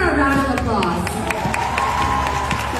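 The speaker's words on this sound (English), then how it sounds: "Let's give her a round of applause" An audience gives a round of applause with scattered cheers, sharp claps and a lively murmur of voices mixed in over a short, busy burst.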